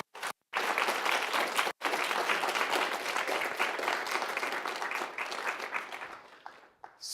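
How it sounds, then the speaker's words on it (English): An audience at an evening panel event on local policy breaks into sustained applause, a dense wash of clapping that starts abruptly, holds steady for several seconds and then tapers off. "give him a big round of applause to start with"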